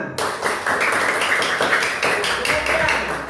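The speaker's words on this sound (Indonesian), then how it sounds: "Tepuk tangan." Children in a classroom clapping together in quick rhythmic bursts during an Islamic history lesson, close and fairly loud with a noisy room around them.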